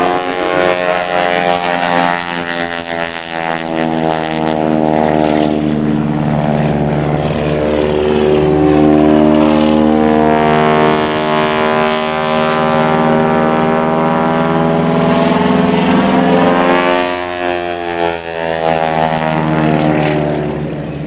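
Propeller aerobatic airplane, flown by Gene Soucy at the 2004 NAS Oceana Airshow, gives a loud, sustained engine drone whose pitch rises and falls in sweeping passes overhead, with no talk.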